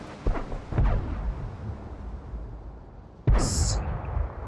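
A tank's main gun firing in a video game, a T34: two deep, rumbling booms early on, then a loud, close cannon blast with a short bright metallic ring after it, over a low continuous engine rumble.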